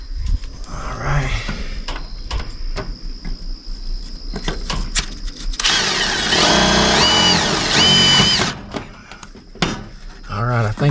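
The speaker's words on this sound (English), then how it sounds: "see if we can get a screw in there and tighten this thing up. Got my drill" A power drill driving a screw into a metal pole barn soffit and gutter whirs in a loud sustained burst midway, surrounded by knocks and handling noises, with insects chirping steadily in the background.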